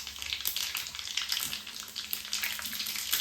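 Green chillies frying in oil with mustard seeds and cumin over a low flame, a steady soft sizzle with small crackling pops scattered throughout.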